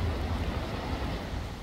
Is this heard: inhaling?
no